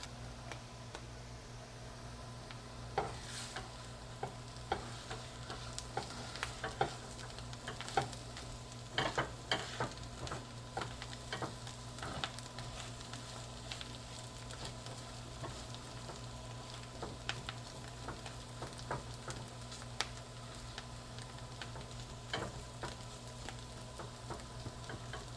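Chickpeas and garlic frying in a pan give a steady, soft sizzle with scattered crackles and occasional stirring clicks, even and fairly quiet throughout.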